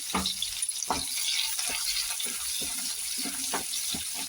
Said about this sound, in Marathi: बारीक चिरलेला लसूण आणि बारीक चिरलेली हिरवी मिरची ते परतून घेऊया